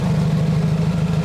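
A Toyota Supra engine fitted with a big Precision turbo runs at a steady idle, a loud, close, even low rumble with a rapid regular pulse throughout.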